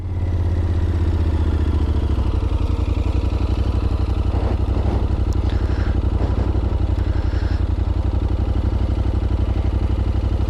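Motorcycle engine putting along at low speed while the rider holds clutch and throttle steady in slow, full-lock turns, a close, steady low rumble with fast even firing pulses and light mechanical clatter.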